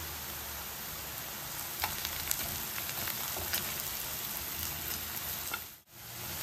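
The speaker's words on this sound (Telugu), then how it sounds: "ఇప్పుడు ఉల్లిపాయలు ఫ్రై అవుతున్నాయి కదా" Onions with a little turmeric frying in a pan for an egg curry with tender tamarind leaves, a steady, even sizzle with faint crackles, fairly close and alone without talk.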